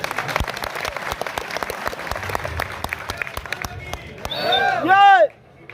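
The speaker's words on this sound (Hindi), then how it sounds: "जोरदार तालियां माननीय मदन मोहन समर जी की कविताओं के लिए, इन ओजस्वी कविताओं के लिए।" A crowd applauds a poet at a Hindi kavi sammelan poetry gathering in Rajakhera, with individual claps audible amid steady clapping, then a brief loud swell of cheering or voice near the end before it cuts off.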